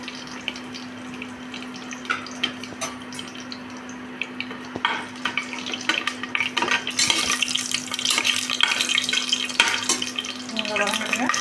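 Whole spices, cloves, a single cardamom pod, bay leaves and fennel seeds, sizzle in hot oil in a pan for tomato rice, crackling softly and then more busily as they are stirred, with a steady hum underneath.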